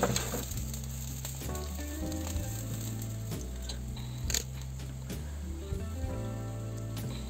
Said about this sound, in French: Je suis en train de badigeonner la viande de cette façon.